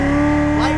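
A Chevrolet Corvette Z06 Stingray engine drones loud and close under throttle on a race track, a steady high-pitched tone climbing slightly near the end, with a voice talking over it.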